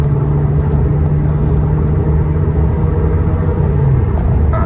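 A Honda Accord G8 with a 2.0-litre engine, tuned and fitted with dual exhaust, idling and revving with a steady, loud, close rumble and a low drone that holds almost constant, then drops slightly near the end.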